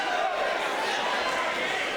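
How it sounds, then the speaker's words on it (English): Crowd noise at a high school wrestling match between Graham and St Edward, a steady, dense roar of cheering and chatter from a packed gym that holds evenly loud for the full stretch. "This crowd is into it now"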